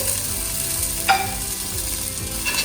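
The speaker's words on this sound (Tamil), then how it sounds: "இப்போ வதங்குற வெங்காயத்தோட கொஞ்சமாக மஞ்சத்தூள் மட்டும் சேர்த்துட்டு கொத்தமல்லி தழையும் சேர்த்து" Sliced onions sauté in a pan with a little turmeric and coriander leaves added, giving a steady close sizzle with soft stirring scrapes and one brighter clink near the middle, with no talking.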